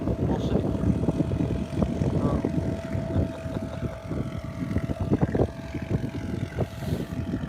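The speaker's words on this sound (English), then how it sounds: "Guy just chilling in a little dinghy going by." A small dinghy's outboard motor drones steadily as it passes, a continuous mid-level hum with people talking over it.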